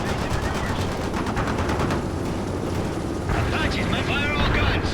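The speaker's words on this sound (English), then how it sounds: "Apaches, man, fire all guns, now!" Apache attack helicopters fire all guns in the video game World in Conflict: dense, loud, rapid gunfire and rotor roar rise and fall through the scene, with battle chatter underneath.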